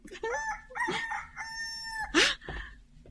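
A rooster crows loudly and close by, a long drawn-out call with a rising start, followed by a short squawk.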